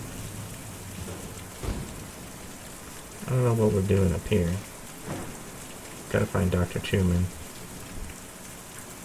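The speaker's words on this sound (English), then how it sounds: "It's raining out, so I finally get to use my umbrella." Steady rainfall in the video game Kentucky Route Zero forms a constant hiss, and someone speaks over it in a few short bursts.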